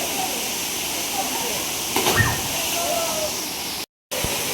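A forest waterfall in Mulugu district pours with a constant, dense hiss of rushing water, heard close and steady, with a brief splash near the middle and a short cut-out near the end.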